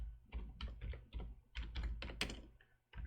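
Keystrokes on a computer keyboard as a map title is typed, in short rapid bursts with brief pauses, fairly close and quiet, with no talking.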